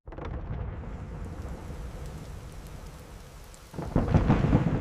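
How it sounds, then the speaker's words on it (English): Steady heavy rain hisses throughout, with a deep rumble of thunder swelling louder near the end. "Listening to the storm batter the castle walls."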